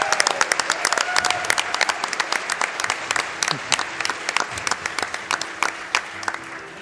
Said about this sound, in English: So I think we just give a round of applause again.